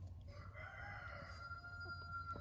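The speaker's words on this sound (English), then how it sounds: "He is the rooster. He protects all of these hens." A rooster crowing among a flock of hens, one fairly faint drawn-out crow with a wavering tone that lasts most of the moment.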